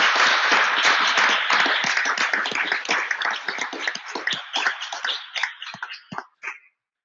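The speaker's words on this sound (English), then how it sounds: "please give them a big, big round of applause" Applause for the winners of a startup pitch award, loud and dense at first, then thinning into scattered individual claps that taper off and stop near the end.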